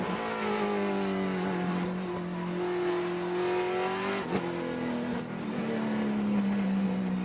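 A TA2 series race car at World Wide Technology Raceway roars loudly as it accelerates over curbing and a hill, its engine pitch climbing through gears with a brief thump and shift midway.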